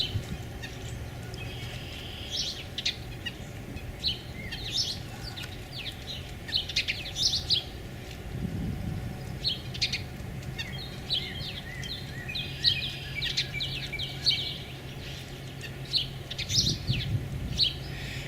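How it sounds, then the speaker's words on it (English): Several birds chirp and sing in a vegetable garden, with scattered bright calls repeating throughout over a low background hum, moderately near and with no talking. "This year is just full of birds."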